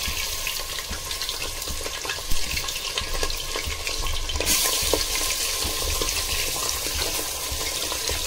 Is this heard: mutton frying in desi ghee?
yes